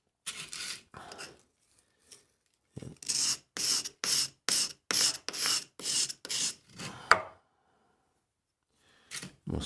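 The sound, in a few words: honing an Allen key carving tool on a 400-600 grit stone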